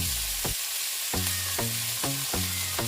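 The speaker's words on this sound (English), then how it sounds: "we're just going to add the meat and sear it, to seal in the juices." Mutton searing in hot oil in a Dutch pot, with a steady loud sizzle throughout and a series of rhythmic stirring scrapes and knocks as the meat is moved around, no voices.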